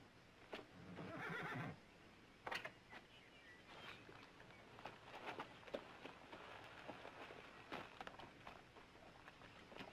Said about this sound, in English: You ever see a better-looking cow pony?